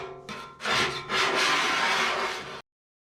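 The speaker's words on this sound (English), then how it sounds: "Let's go ahead and start scraping all this old glue off." Scraper rasping old glue off the hull of a Bass Tracker boat being restored, a close, loud broadband scratching in two long sustained strokes after a brief lighter pass, with no talking.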